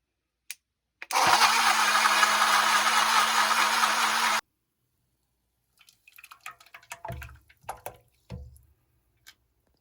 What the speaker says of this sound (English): I'm going to run it through the blender